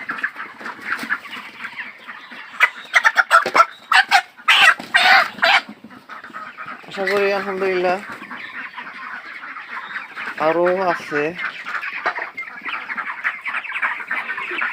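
Chickens on a farm, broiler birds around 2.4 kilograms at 30 days old, clucking and squawking in repeated bursts at close range, with a voice speaking briefly in between.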